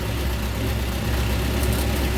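A 1954 Ford Popular 103E engine idles steadily nearby, a continuous low rumble with a faint hiss from the air reservoir above it and no talking.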